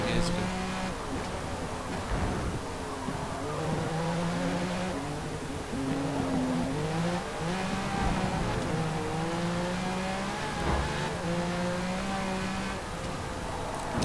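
Vintage Porsche race car from Forza Motorsport at high speed on its final lap, engine droning and shifting pitch steadily, loud and continuous, with occasional tire noise, while someone talks over it.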